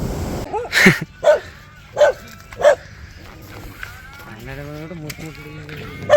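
Four sharp dog barks ring out in quick succession near the microphone, followed by quieter background sounds and a voice at the end.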